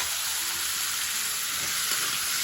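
Chopped tomatoes fry in a hot pan at close range, giving a steady, even sizzle that carries on unbroken.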